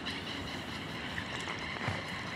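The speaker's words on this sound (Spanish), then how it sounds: "El agua viene bastante fuerte." Strong floodwater rushes past flooded homes beside an overflowing river and canal during a disaster in Talca, a steady broadband roar of moving water with no speech.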